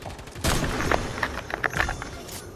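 Charge shotgun firing in the Fortnite video game, a burst of loud game gunshots with several sharp reports in quick succession over a busy background, no speech.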